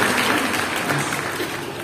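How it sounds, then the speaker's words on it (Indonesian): Church congregation applauding, a dense, steady wash of clapping that fills the whole moment at an even level without letting up. "Tepuk tangan yang paling luar."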